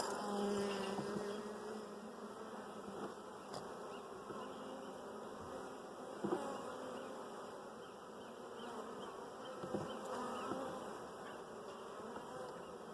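Honey bees buzzing steadily inside an opened hive as the beekeeper spaces the frames, a dense continuous drone with occasional faint wooden knocks.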